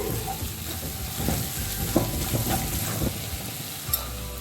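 Masala for restaurant-style chana masala roasts in a pan under continuous stirring, a low, even sizzle with soft scraping strokes and occasional light clinks, no voices.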